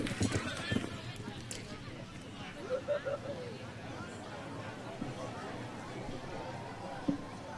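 Horse Blackfoot Mystery galloping with rider Boyd Martin on the Rio 2016 Olympic cross-country course: steady, moderately distant hoofbeats under a commentator's voice and crowd murmur.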